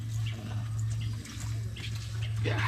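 Water pours from a pump outlet in a low, steady rush with a constant mechanical hum underneath. A faint voice is barely present.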